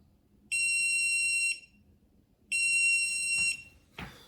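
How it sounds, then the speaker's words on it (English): A Garage Door Minder Version 2 light stick receiver beeps twice, each a steady high-pitched electronic tone lasting about a second, close and loud against a quiet room, followed by a short click. "Second light, let go, and you'll hear the beep. Now the beeper's activated."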